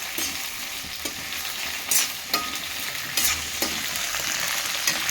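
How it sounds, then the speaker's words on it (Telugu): Okra (bhindi) sizzles steadily in hot oil while being stirred, a dense continuous fry with several sharp scraping strokes of a spatula against the pan, close and fairly loud with no talking. "నూనెలో ఫ్రై చేసుకున్నాం కొంచెం దూరగా ఇదండి మంచిగా కొంచెం ఫ్రై చేసుకోవాలి బాగా"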